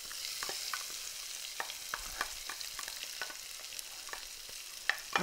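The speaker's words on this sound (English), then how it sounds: "you can see that they are already starting to sizzle a little bit" Steady, soft sizzling fills the clip, with scattered crackles and pops rising over a constant frying hiss; no voices.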